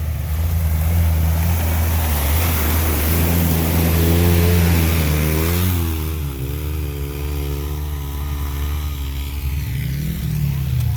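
Several two-seater 1,000 side-by-side off-road vehicles cross a creek with loud, close engine drone. The revving pitch rises and falls as they push through, then eases to a lower idle.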